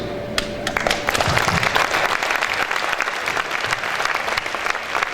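An audience at a Hoosiers round table and auction event breaks into a big round of applause, with dense clapping that swells quickly and holds steady, and brief speech just before it starts.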